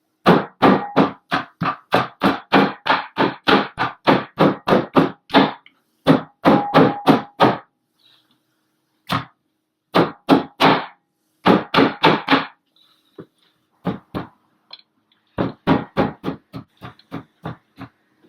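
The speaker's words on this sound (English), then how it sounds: "Now that's about as much mashing in as we'll get done with the hammer alone" A hammer pounds bananas and potatoes in fast bursts of repeated dull thuds, with short pauses between the runs; no one speaks.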